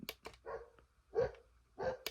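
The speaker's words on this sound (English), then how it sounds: "dog barking" A dog barks several times in short, separate bursts, fairly quiet and close, with brief gaps between barks.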